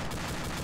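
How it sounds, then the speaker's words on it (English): Mark 19 grenade launcher fire in a military shooter game, a loud, dense burst of rapid thudding shots packed into a fraction of a second, with no talk over it. "Whoa, those Mark 19s are danger close to headshots position."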